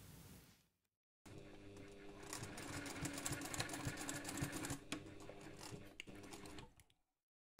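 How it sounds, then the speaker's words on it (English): A sewing machine bastes along the short fabric edges of a toiletry pouch, a quiet motor whir with ratcheting needle clicks, starting after a brief pause and running steadily for several seconds before stopping. "take this to the machine and baste along those two shorter edges."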